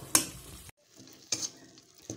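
Potatoes and cabbage stirred and frying in a pan, scraping strokes of a spoon over a soft sizzle, a few close separate bursts with brief quiet gaps.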